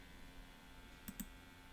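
A computer mouse gives two quick, faint clicks in succession, set against a low room hum with no talking.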